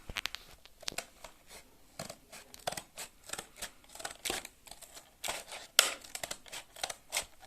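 Scissors snipping and slicing through a cardboard Gillette Fusion5 ProShield Chill razor box in a series of sharp, uneven cuts, close up, with rustling packaging in between.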